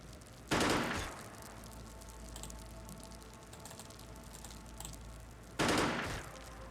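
Two loud bursts of rapid gunfire from a turn-based alien invasion video game, about five seconds apart, with low quiet game ambience between them.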